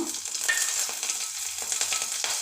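Mustard seeds, cumin and green chilli sizzle in hot oil in a kadai on a gas stove, a steady close frying hiss with faint stirring scrapes throughout.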